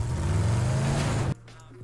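A vehicle drives in PUBG with a loud, steady engine drone that cuts off abruptly near the end, leaving near silence and a faint hum.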